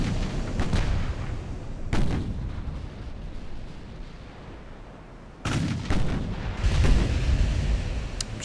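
Battleship big guns firing in the naval video game Ultimate Admiral: Dreadnoughts, with several heavy booming salvos, two early and a louder cluster later, over a low rumbling sea ambience.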